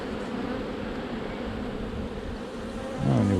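Honey bees buzz in a dense, steady drone at an open hive during a May inspection on a seaside apiary, close and continuous, swelling louder near the end.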